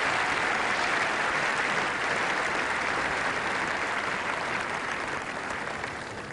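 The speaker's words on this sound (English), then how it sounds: "I think applause, too, would be appropriate for the umpires and lines people who have all done an excellent job." A tennis crowd at the 1992 NSW Open applauds the umpires and line officials with loud, sustained clapping that fades a little in the final seconds.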